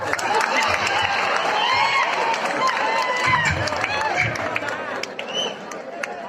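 An audience at a college's 41st anniversary celebration in Guntakal claps and cheers, a steady wash of applause and crowd noise with people talking over it.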